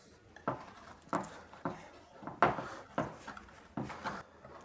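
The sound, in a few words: metal spatula loosening seven-layer bars from a baking tray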